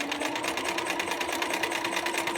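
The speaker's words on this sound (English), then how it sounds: "So I've lowered my presser foot, and I'm just sewing along" A sewing machine stitches quilt binding strips along a diagonal line with the presser foot lowered: a close, steady, rapid mechanical whir with an even rhythmic pulse that runs throughout.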